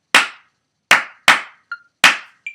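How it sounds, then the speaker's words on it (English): Four sharp hand claps in a steady uneven rhythm, each followed by a short bright tone like a metronome click, with brief pauses between. "Again, clap with me."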